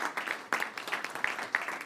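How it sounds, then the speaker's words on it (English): An audience at a panel discussion on the U.S. Export-Import Bank applauds to welcome a speaker, a brief, moderately loud wash of many clapping hands in a large room. "Would you give a big round of applause and a welcome to Mr."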